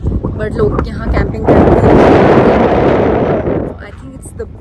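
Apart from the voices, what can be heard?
strong wind blowing outdoors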